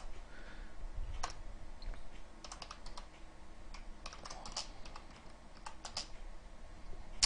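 Quiet, continuous tapping of fingers typing on a computer keyboard, irregular clicks in quick runs with brief pauses, nearby and alone.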